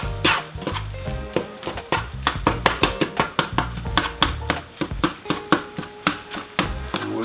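A spiced stuffed pepper filling is stirred in a pan, with a close sizzle under a run of regular spoon scrapes and knocks against the pan, with no talk.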